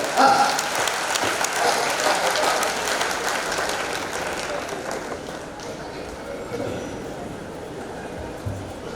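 A crowd at a Mewar region comedy poetry program claps for poet Kuldeep Rangila. The applause is dense and steady, then slowly fades and thins toward the end.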